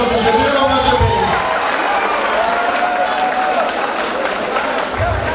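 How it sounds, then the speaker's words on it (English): Audience at a college freshers' day breaks into loud, sustained applause in a large hall, dense clapping and some cheering filling the whole stretch, with a voice over a loudspeaker briefly audible at the start. "A big round of applause to your parents for accepting your decision of joining into Avinash Group of Institutions."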